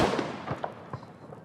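Fireworks bursting outdoors in a safety warning, a dense crackling blast at the start followed by several sharper pops spaced a few tenths of a second apart, fading toward the end.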